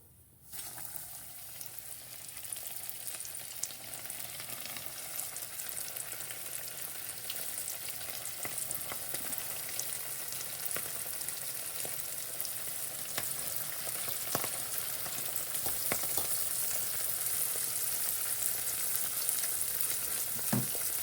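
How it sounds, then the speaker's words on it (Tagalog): Milkfish (bangus) fries in hot oil in a home kitchen, a steady, dense sizzle that starts abruptly and holds at an even level for the whole stretch, with occasional sharper pops and crackles and no talking. "so antayin lang natin siyang maprito lahat"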